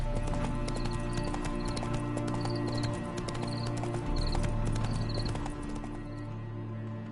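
Roach, Geralt's horse in the video game Witcher 3, gallops with a steady, close clip-clop of hooves carrying on throughout, and a brief whinny rises over the hoofbeats.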